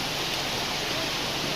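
Heavy monsoon rain pours steadily on the way to Yana, a dense, even hiss that never lets up, filling the short stretch without any voices.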